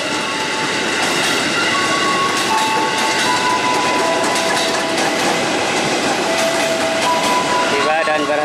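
A KRL commuter train arriving at Tigaraksa Station, with continuous rumble and wheel clatter, high metallic wheel squeals from the rails, and a voice faintly audible in the background.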